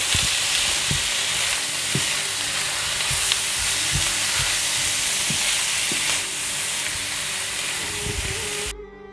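Ground beef and vegetables sizzle steadily in a pan, with a broadband frying hiss throughout and scattered soft knocks and scrapes of a utensil stirring and mixing, close and fairly loud, ending abruptly.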